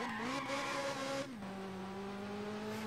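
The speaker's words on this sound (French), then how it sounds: "on a vraiment les bruitages de la F355" Ferrari F355 engine in the Dreamcast racing game F355 Challenge, a loud sustained high engine tone that drops pitch as a gear shifts, mixed with tire squeal, close and continuous with no voices.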